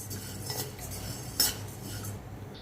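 Roasted wheat grains being scraped and lifted out of a pan with a metal utensil, giving soft, steady scraping and clinking with one sharper knock partway through, heard alone.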